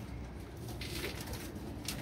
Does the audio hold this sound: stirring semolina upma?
no